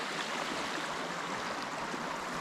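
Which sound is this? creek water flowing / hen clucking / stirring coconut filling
creek water flowing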